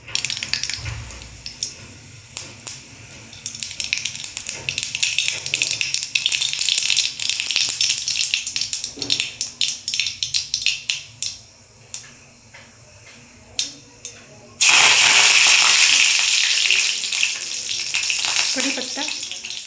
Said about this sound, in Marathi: तेल गरम झालं आहे, त्यात मोहरी